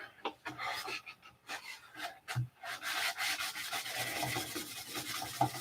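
Steady rasping strokes of sandpaper rubbing across wood, close up and continuous, with a rhythmic back-and-forth scratch and no voices.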